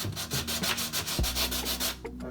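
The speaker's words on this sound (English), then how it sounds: "hard at work sanding the bathroom" Rhythmic back-and-forth rasping of sandpaper on a wooden surface in a narrowboat bathroom, steady strokes repeating close by, with a brief low thump partway through.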